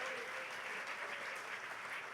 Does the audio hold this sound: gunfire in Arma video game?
no